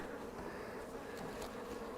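Honey bees in an early spring hive drone in a steady, dense buzz, quiet and continuous, with a few louder wingbeats passing close.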